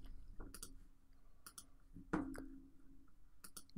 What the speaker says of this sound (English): right mouse click copy.